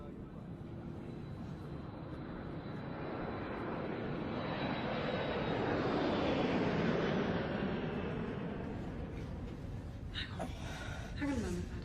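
Steady jet engine drone fills a first-class airplane cabin, swelling slightly in the middle, while a voice speaks over the hum near the end.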